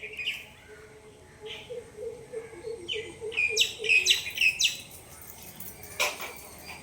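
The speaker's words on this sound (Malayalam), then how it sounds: "അതാ മഞ്ഞ കളറിലുള്ള കിളി." Several birds chirp and tweet in short, bright bursts among the branches of a java plum tree, growing busier midway with clustered calls, then a single sharper call near the end.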